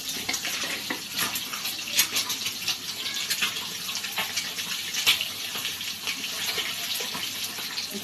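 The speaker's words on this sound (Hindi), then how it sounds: "और अब मैंने अंडा डाल दिया है कढ़ाई में, अंडा फ्राई कर रही हूँ।" An egg fries in hot oil in a kadhai, making a steady, bright hiss and sizzle with small crackling pops throughout. It is fairly loud and close, with no talking.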